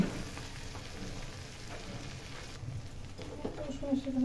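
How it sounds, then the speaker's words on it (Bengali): Low, steady crackle of shrimp frying in hot oil runs throughout, with a brighter spatter and faint clinks near the end. "চিংড়ি মাছ পাত্রে দিয়ে দিচ্ছি, মোটামুটি ভেজে নেব।"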